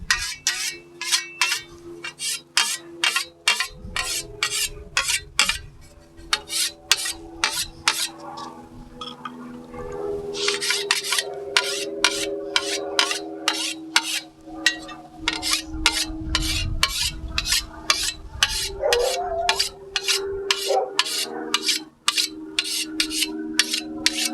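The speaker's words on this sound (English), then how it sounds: "I'm just going to go over it a little bit just so you can see with the white stone, which is a finer stone here." A fine white sharpening stone strokes along a short scythe blade in quick, rhythmic metallic rasps, close and crisp, with a brief pause and some handling noise partway through.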